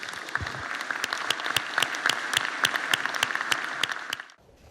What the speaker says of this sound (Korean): 위원님들께 박수 한번